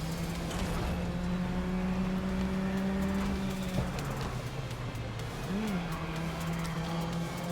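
A racing car in the video game GRID Legends drives at speed with a sustained engine whine that shifts pitch through gear changes, joined by a brief burst of tire squeal partway through.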